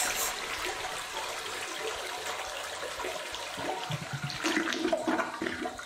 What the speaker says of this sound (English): it was flushing so long